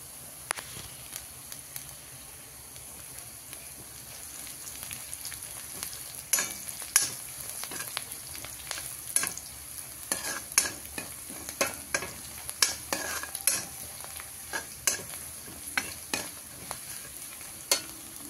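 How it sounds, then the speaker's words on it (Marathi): A few garlic cloves frying in a pan, a soft continuous sizzle with frequent light scraping and stirring clicks, steady and close, with no voices. "आपण आता ह्याच्यामध्ये लसूण टाकून घेऊया."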